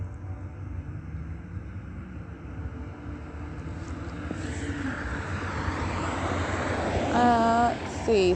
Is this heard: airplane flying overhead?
yes